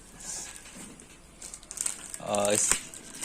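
Plastic wrapping on a new Brother DCP-T420W printer crinkles faintly and close by, with a louder rustle near the end, among quiet talk.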